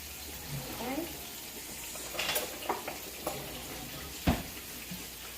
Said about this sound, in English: I use a whisk to just mix all the dry with the wet ingredients